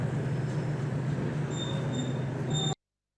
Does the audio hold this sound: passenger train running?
yes